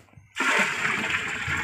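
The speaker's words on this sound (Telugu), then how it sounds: "కొంచెం వాటర్ పోసేసి" Water gushes out in a sudden continuous pour while liquid jeevamrutham is mixed for natural farming, a loud close splashing rush after a moment of near silence.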